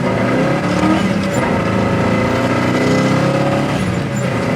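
A loud 1970 Chevelle SS muscle car engine roars continuously up close, revving steadily as it accelerates through the gears with shifts at 4,000 RPM, with no voices over it.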